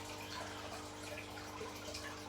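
Water being drained out of a fish tank holding rare cichlids during a water change, a steady, faint wash of running water with no breaks and no voices.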